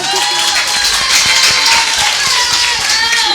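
At a Maulid religious gathering in Pering, Blahbatuh, the audience claps in a loose, sustained patter of many hands, with crowd murmur and voices mixed in throughout.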